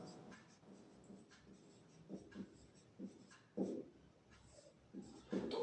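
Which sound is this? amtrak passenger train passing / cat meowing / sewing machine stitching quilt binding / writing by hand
writing by hand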